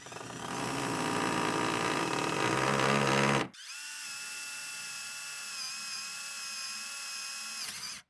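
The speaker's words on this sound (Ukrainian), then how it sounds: "Давайте спробуємо посвердлити деревину та закрутити в неї саморіз." A Ronix 8615 drill driver bores into wood, a loud buzzing whir that stops abruptly, then a steadier, quieter high spin that runs for a few seconds before cutting off.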